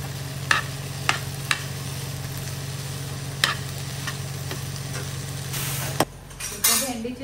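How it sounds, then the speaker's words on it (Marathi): Okra (bhindi) being stir-fried in a pan at a home kitchen, with a steady close sizzle broken by a few sharp scrapes and clinks of a spatula against the pan, and louder clatter near the end. "मी आता करते भेंडीची भाजी"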